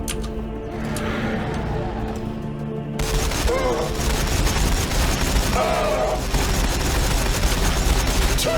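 Battle gunfire from a Warhammer 40k Battlesector fight with Ork forces, a dense continuous rattle of shots and blasts filling the scene, getting louder and busier after the first few seconds, with game voice lines mixed in.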